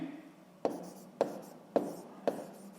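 Pen or chalk marks tapped down four times at an even pace while writing out a sixth-grade math solution for a block's surface area, each stroke a crisp close tick over a quiet room hum.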